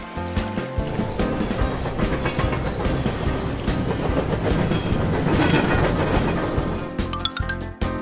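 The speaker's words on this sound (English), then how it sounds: "Train." An animated cartoon train runs on rails with a continuous rumbling, clattering roll that stays loud throughout and ends with a few bright chimes over light music.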